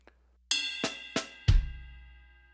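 Drum kit playing a songo groove: a ride cymbal hit, then two quiet snare ghost notes and a kick drum, each stroke sharp and close with ringing cymbal wash, no talking.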